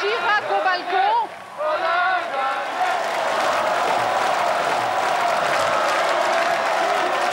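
A crowd of supporters outside on avenue d'Iéna in Paris calls for Chirac to come to the balcony, a loud, sustained mass of voices and chanting, with cheers rising over a broad roar.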